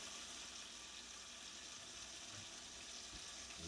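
Ground meat browning in a pan for tailgate chili, a faint steady sizzle with no voices.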